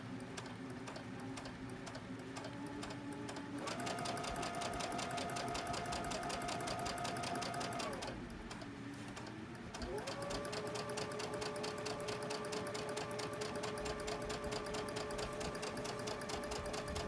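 A sewing machine stitches a quilt straight along a marked line, a steady close whirring hum running continuously with a brief slowdown and pause partway through before resuming at speed.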